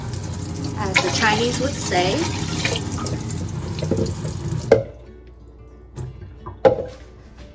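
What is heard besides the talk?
water poured into Instant Pot for fish congee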